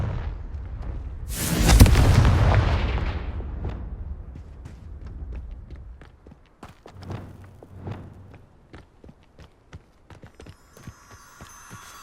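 A Confringo blasting spell explodes in Hogwarts Legacy, a loud burst of fire and crackling boom that swells and slowly decays, followed by scattered small clicks and impacts of game effects.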